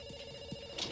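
Telephone ringing in an auto insurance commercial: a steady electronic ring with sustained tones, moderately loud, running alone through the short moment without talk.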